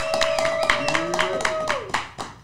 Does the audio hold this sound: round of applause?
yes